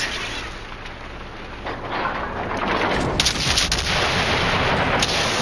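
Ship guns fire in a naval battle video game as dull, heavy booms rumbling under continuous ocean and engine noise, with a louder stretch of repeated blasts in the second half.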